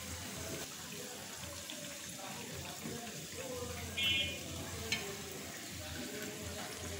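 Mini Mughlai paratha frying in a pan on medium-low heat, a soft, steady sizzle with faint crackles and a couple of brief clinks, fairly quiet throughout.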